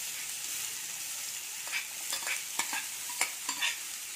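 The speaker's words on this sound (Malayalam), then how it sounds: "എന്നിട്ട് നല്ലോണം നമുക്കിത് വഴറ്റി കൊടുക്കാം" Finely chopped onions sauté in a pan for chicken cutlets, with a soft, steady sizzle broken by repeated spatula scrapes and taps that grow more frequent toward the end. No voices.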